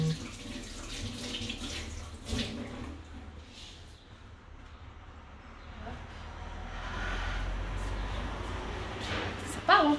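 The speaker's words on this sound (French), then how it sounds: "Je vais juste me rincer les mains." Hands rinsed under a running kitchen tap, with butter on them, while baking a coconut-lime loaf cake: a continuous hiss of flowing water near the mic that swells toward the end, with people talking over it.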